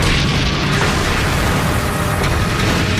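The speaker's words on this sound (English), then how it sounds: "We engaged that first tank with a heat round." HEAT anti-tank round striking a tank during the Gulf War and exploding: a loud, sustained booming blast that fills the whole span with dense, rumbling noise.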